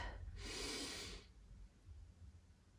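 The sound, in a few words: deep breath in during chest opener stretch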